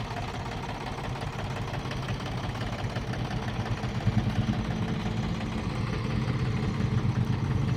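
A 2009 Mahindra Bhumiputra 275 DI tractor in original company condition idles nearby, its diesel engine giving a steady, knocking low rumble with slight vibration and no voices.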